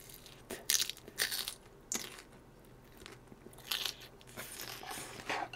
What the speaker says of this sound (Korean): 이 바삭거리는 소리가 들리십니까?